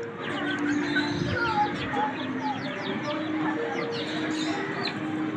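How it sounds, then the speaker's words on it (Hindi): A hen clucking among chirping chicks at a family park in North Nazimabad, with steady faint background noise and murmuring voices. "मुर्गी के साथ जो हैं वो चिक्स हैं,"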